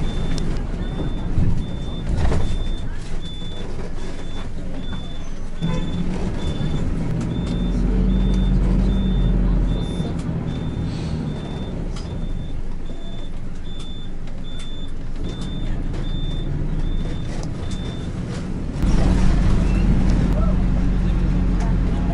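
A bus moves through busy street traffic in Alanya, with a steady engine rumble, a repeating high reversing-style beep and a deep air-brake hiss near the end, and someone talks over it.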